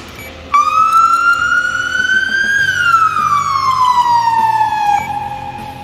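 A loud police car siren in pursuit mode on a Dodge Charger patrol car wails continuously, its pitch climbing slowly and then sliding back down, over a low engine rumble.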